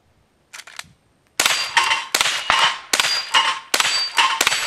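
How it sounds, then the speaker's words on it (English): A .22 rifle fires at six targets, each shot a sharp crack followed at once by a metallic clang, recurring about every half second to second, close and loud with no talking. "I'm going to be shooting at 6 targets instead of 5."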